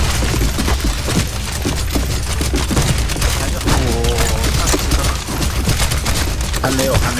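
Dense gunfire rattles through a CS:GO zombie escape match, with rapid overlapping shots from several weapons forming a near-continuous loud barrage, joined by brief tonal game effects.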